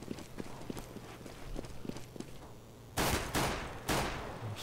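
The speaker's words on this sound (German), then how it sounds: "Schauen wir uns mal an, was hier die Pistole bringt" Footsteps patter quickly in the Counter-Strike match, then three loud pistol shots crack out about half a second apart, each with a short echoing tail.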